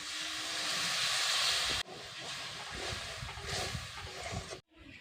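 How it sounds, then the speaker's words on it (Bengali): Curry gravy for kochur loti with dried loitta fish coming to a boil in a pot, a dense steady hiss and bubbling close by, dropping abruptly partway through, then resuming and cutting off near the end; no talking. "ঝোলটা আমার ফুটে এসেছে।"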